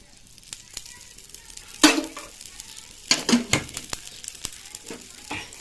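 Moong dal dosa (pesarattu) cooking on an oiled pan, with a faint sizzle and a few sharp scrapes and clinks of a utensil against the pan, close and fairly quiet.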